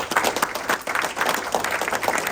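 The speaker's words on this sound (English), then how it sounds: "Round of applause, please." An audience at a startup pitch competition in Warsaw applauds, a short burst of many hands clapping at moderate distance, steady and dense for a couple of seconds.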